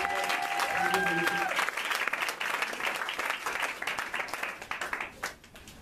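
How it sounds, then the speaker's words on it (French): A church congregation in Gabon applauds steadily with dense clapping that stays fairly loud, then thins and fades toward the end, with a brief sustained tone near the start. "Can you put your hands together for God?"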